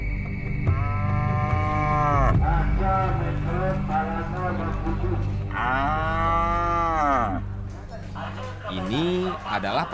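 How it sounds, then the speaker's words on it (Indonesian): Water buffalo low repeatedly at a busy livestock market in Pariaman, West Sumatra, with long, loud, drawn-out moos from several nearby animals over a steady murmur of crowd voices. "Ini adalah pasar ternak yang terbesar se-Pariaman."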